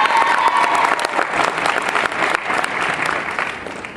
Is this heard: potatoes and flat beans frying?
no